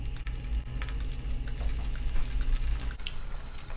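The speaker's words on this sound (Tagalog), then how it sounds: "Mantika po! Kung mainit na po, prito na natin." Food sizzles and crackles in hot cooking oil in a pan, a busy close frying hiss dotted with small pops and spatters throughout.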